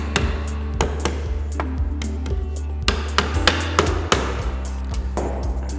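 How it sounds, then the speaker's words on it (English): A mallet knocks the corners of a wooden stretcher frame with an internal bar tight together, giving a series of sharp, irregular taps and knocks close by over a steady low hum, with no one talking. "You can use your mallet for this to push the corners tight together."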